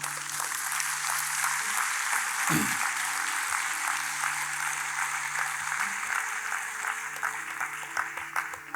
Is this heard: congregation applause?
yes